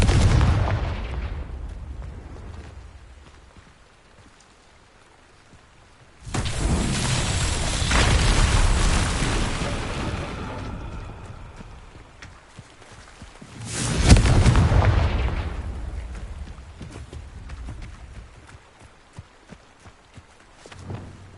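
In Hogwarts Legacy on PS5, a Confringo fire spell erupts in a heavy booming blast that rumbles out, followed by a second deep explosion later, with quieter footsteps and ambience between.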